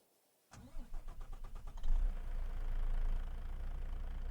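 A Volvo truck with a 600-horsepower Euro 6 engine in Farming Simulator 25 cranks over with a rhythmic starter whir, catches with a surge, then settles into a deep, steady idle close by.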